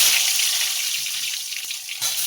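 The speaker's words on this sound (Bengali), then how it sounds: "তেল গরম হয়ে গেছে, আমি পটলগুলো ভেজে নেব।" Pointed gourds, slit down the middle for spice, frying in hot oil in a pan: a steady, dense hiss of sizzling throughout, with a brief clatter near the end.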